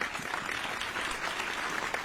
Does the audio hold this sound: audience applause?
yes